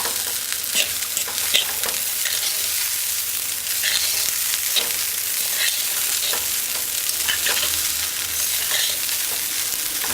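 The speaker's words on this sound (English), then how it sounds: "And stir it." Mixed vegetable rice being stirred and fried in a pan, with steady sizzling and repeated scraping and clinking of the utensil against the pan, close and fairly loud throughout, with no talking.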